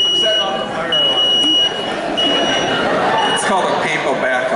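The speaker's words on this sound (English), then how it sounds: "I'm setting off the fire alarm." A fire alarm at a convention event sounds as a steady high electronic tone that pulses and repeats, loud and close over a noisy crowd hubbub.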